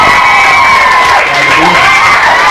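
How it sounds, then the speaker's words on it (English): Loud studio audience on a morning TV show cheering, whooping and clapping as a band is welcomed, with high-pitched excited shouts over a dense, sustained roar of applause. "Give them a big round of applause."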